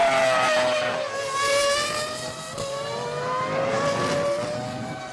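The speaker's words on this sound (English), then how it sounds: "the media focused on Michael Schumacher as the Ferrari F2002 broke cover to make its Grand Prix" A Ferrari F2002 Formula One car's high-pitched engine screams loudly and steadily, its pitch rising and falling slightly as it passes at speed on a Grand Prix circuit.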